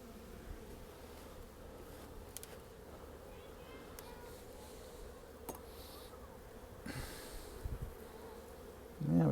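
Honeybees hum in a low, steady swarm drone during a pre-winter beehive inspection, close and continuous, with light rustling and a louder thump near the end.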